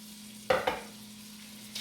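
A pound of red kidney beans hits hot fat in a pot for Louisiana-style red beans, giving two quick sizzling clatters as they drop and are stirred, then a soft low sizzle.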